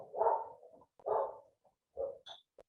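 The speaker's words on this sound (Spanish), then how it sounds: "está el perro ladrando" A dog barks outside a house in a few separate, muffled bursts with short pauses between them, faint and distant with quiet gaps in between.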